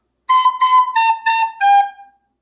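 A recorder plays five clear tongued notes, two at one pitch, two a step lower and a final longer lower note, at close range with silence before and after.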